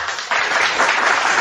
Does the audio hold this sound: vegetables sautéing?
no